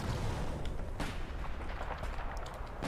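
Gunfire in the Battlefield 4 video game, with a UMP submachine gun among the weapons: sharp booming shots punch through a dense, noisy battle din, several strong reports spread across a few seconds.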